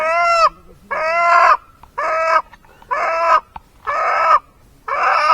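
A rooster crows repeatedly in loud, drawn-out calls, about six bursts in quick succession with short pauses between, close by, in rural Konkan, India.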